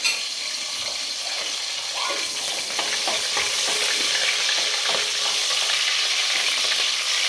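Green chillies fry in hot oil under a steady, dense sizzle, with stirring scrapes of a utensil through the pan running throughout; no voices.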